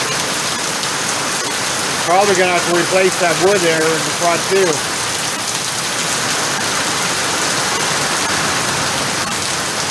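Heavy rain pours off a house roof gutter at a corner, a steady dense wash of falling water throughout while someone talks briefly over it.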